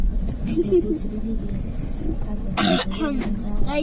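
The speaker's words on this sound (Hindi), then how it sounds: "मुझे खांसी आ जाती है" A single sharp cough bursts out partway through, cutting over steady road rumble from a moving vehicle, with a voice murmuring nearby.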